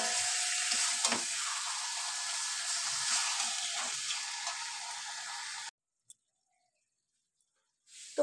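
Mutton being fried down with spices for kosha in a pan, a steady close sizzle with occasional stirring scrapes for several seconds, then cutting off into near silence before a faint return at the end.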